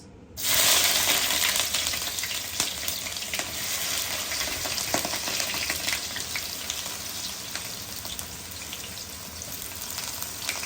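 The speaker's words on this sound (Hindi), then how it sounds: "उसके लिए हम पहले ऑयल लेंगे, उसके बाद ऑयल में ऐड करेंगे हम प्याज" Onions frying in oil in a karahi for seekh kabab, a steady dense sizzle that starts abruptly and holds loud and close throughout, with small clinks and stirring scrapes scattered through it.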